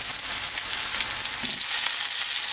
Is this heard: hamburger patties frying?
yes